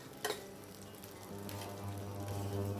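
Curry leaves sautéing in a pan for fish curry, a soft steady frying sizzle with a light clatter of stirring near the start and a low hum underneath, no voices.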